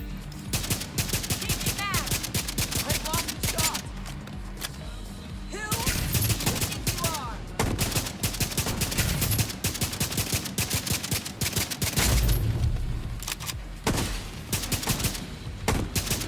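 Sustained automatic gunfire in The Division 2 during a control point battle in Brooklyn, long rapid bursts with brief pauses and scattered heavier impacts, loud and near throughout.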